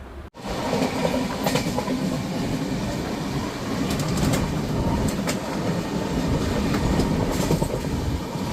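A passenger train runs from Vijayawada toward Thiruvananthapuram in Kerala, heard from inside. A loud, steady rumble continues throughout, with rhythmic clicks and clatter from the rails.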